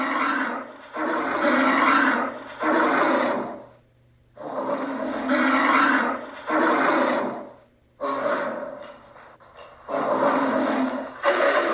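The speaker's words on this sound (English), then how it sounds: "Polar bear." A polar bear roars in four long, loud, rasping bursts separated by short pauses, heard alone and close.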